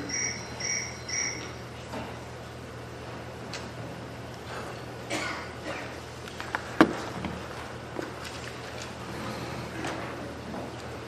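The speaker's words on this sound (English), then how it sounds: "I just heard a cricket go off." A cricket chirps in short bursts of high, tight pulses near the start inside a meeting room with a low steady hum, followed by scattered clicks, knocks and faint rustling.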